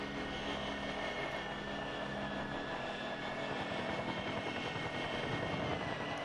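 A drone in a shooter video game flies with a steady, loud whirring engine drone that stays constant throughout, with no talking.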